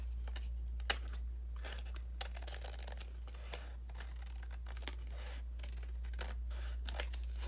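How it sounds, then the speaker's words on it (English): Scissors trimming an edge of papercraft, a series of small, crisp snips and paper rustles spread irregularly over a steady low hum, with one sharper cut near the start. "Just trimming down this edge right here."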